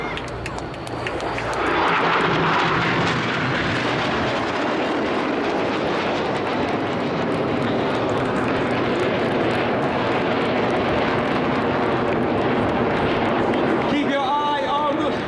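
Red Arrows jets roar loudly and continuously through a flying display manoeuvre at an air show in Ayr, a broad sustained engine rush with a commentator talking over it.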